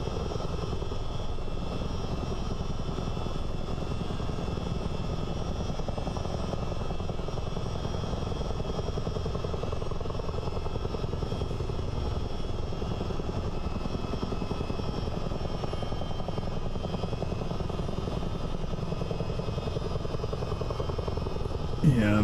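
A Chinook CH-47 helicopter cruising in Microsoft Flight Simulator, a loud continuous rotor and engine drone that stays even and unbroken throughout with no clear voices.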